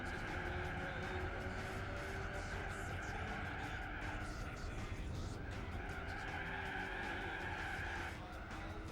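Race car tyres squealing and skidding on cold tyres on a special stage in Gran Turismo 4, a continuous steady screech with engine drone underneath, sustained throughout.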